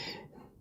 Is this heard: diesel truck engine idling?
no